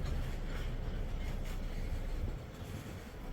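A slow Wheeling & Lake Erie freight train rolls into a rail yard, a steady low rumble of wheels and cars that eases slightly near the end, no talk.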